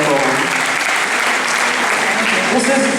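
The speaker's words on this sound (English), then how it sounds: "Let's have a round of applause." An audience at an orientation event applauds in a steady, full wash of clapping, with voices mixed in beneath the sound.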